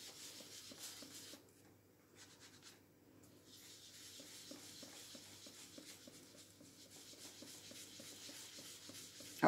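Ink rubbed onto paper in steady circular motions while making a Christmas easel card, a soft repeated scrubbing swish heard close and quiet, with no talking.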